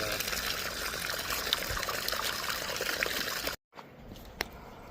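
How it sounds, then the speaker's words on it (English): Water gushes steadily from a broken 3-inch water main at a mobile home park, a loud continuous rushing that cuts off abruptly near the end, followed by quieter trickling and a sharp knock. "there's still a good amount of water coming out."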